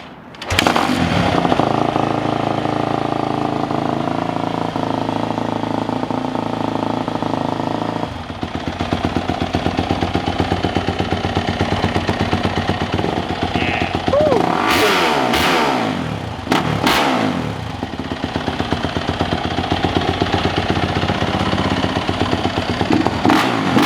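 A 2018 Yamaha YZ250F dirt bike engine with stock exhaust idles loudly up close, then revs hard several times in rising bursts before settling back to a steady rumble.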